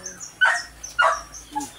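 A dog barks several times in short, sharp yaps at a birthday gathering, fairly close, with brief quiet gaps between the barks.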